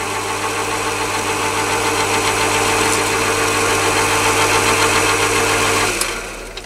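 A Chinese mini lathe running without its gears gives a steady, loud mechanical hum with a constant motor drone and faint vibration, continuing evenly before cutting off near the end.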